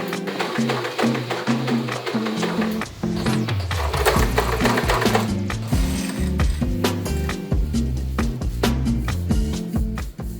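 A sewing machine running steadily up close, with continuous loud mechanical whirring and rattling and no voices.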